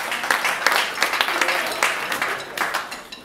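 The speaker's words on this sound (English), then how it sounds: "Give yourselves a round of applause as well for showing the consideration and the compassion to listen to artists come and sing their songs for you" Brief, scattered clapping from a small jazz club audience, a few loose claps rising and fading rather than a full ovation.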